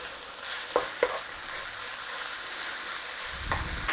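Flour cooking in a pan for a chicken, mushroom and sweetcorn cobbler, giving a soft steady sizzle with a few light stirring scrapes, close but quiet, no voices.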